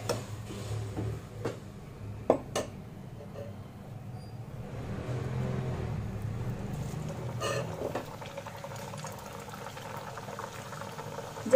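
Kachori for a Bengali-style matar kachori recipe bubbles in hot oil over a medium gas flame, a steady low frying rumble with a few faint clicks and no talking.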